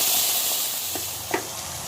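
Whole spices frying in hot oil for chole, a steady loud hissing sizzle that stays constant throughout, close up, with a couple of faint soft clicks from stirring and no talking.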